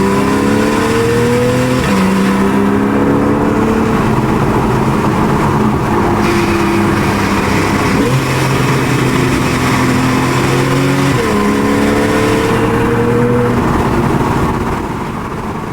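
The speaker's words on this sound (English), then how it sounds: "It is an AWE SwitchPath Exhaust for 911, and this is amazing because our car already sounds glorious." A Porsche 911 with an AWE SwitchPath exhaust revs loudly and repeatedly, its exhaust rising in pitch through several gear changes, close and continuous.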